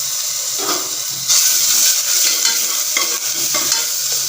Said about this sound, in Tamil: இஞ்சி பூண்டு நல்லா வதங்கட்டும், பச்சை வாசனை போகட்டும்.